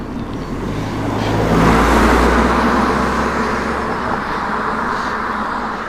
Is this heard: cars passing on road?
yes